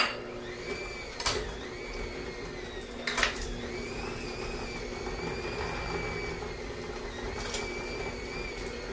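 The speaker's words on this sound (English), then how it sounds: "We're going to put that in the mixer. We've got to cream our butter." An electric mixer creams softened butter in a steady, close mechanical whir with a constant motor hum, broken by a few brief louder rattling bursts, no talking.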